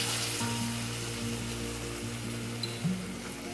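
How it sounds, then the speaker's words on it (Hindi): Pumpkin leaf fritters drop into hot oil and fry with a soft, continuous sizzle beneath a low steady hum, and a small clatter comes near the end. "गरम तेलेर मध्ये आमी दिए दिच्छि बोड़ा शेप दिए"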